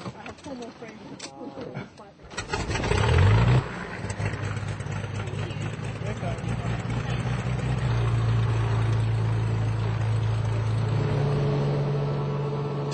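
A six-seat light aircraft taking off on a Nasca Lines sightseeing tour in Peru: the engine swells into a loud, steady drone that runs to the end, after a few seconds of cabin noise.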